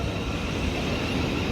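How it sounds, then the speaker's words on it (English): A Brighton passenger train passes through Three Bridges station as a steady, loud broadband rumble and rail roar, with no pauses or voices. "I think it's the Brighton train."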